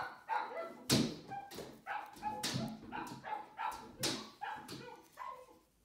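A dog barks repeatedly in a steady series of sharp, fairly close woofs mixed with yips, heard indoors in a quiet room.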